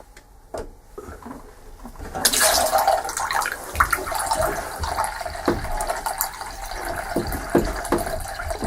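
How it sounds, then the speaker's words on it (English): Hot water runs from a sink tap: after a few soft knocks and clicks, a steady rushing stream starts and keeps flowing at moderate level, broken by occasional handling bumps. "there's a screw just underneath my tap, which means I can turn the hot water back onto this tap"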